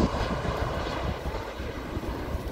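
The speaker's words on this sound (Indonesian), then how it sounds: "Batik Air, alhamdulillah mendarat dengan selamat" A Batik Air airliner touching down at Sultan Hasanuddin International Airport in Makassar, its engines roaring loud and steady with broad rushing noise throughout.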